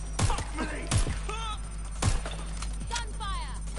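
Gunshots ring out in a Watch Dogs: Legion shootout, four sharp, loud single cracks spaced irregularly about a second apart, with game characters shouting and talking between them.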